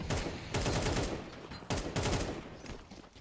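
Pistol fire in a Counter-Strike esports match crackles as rapid overlapping shots in two dense bursts, the second fading out.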